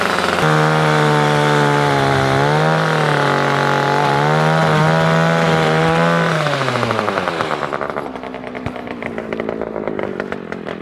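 A chainsaw attachment cutting back an overgrown tree: a loud, close, droning motor whine holds steady with small pitch dips under load, then drops and tails off into a rougher idle near the end.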